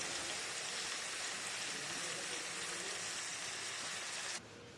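Cauliflower korma cooking in hot oil with Kashmiri chili powder as it is stirred: a dense, steady sizzling hiss that runs without pause and drops away abruptly just before the end.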